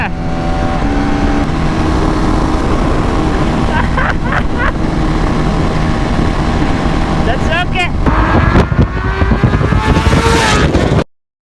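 Motorcycle engines of a KTM 390 Adventure and a Royal Enfield Himalayan 450 drone loudly during a drag race, a close steady roar with rising revs near the end, with talk over it.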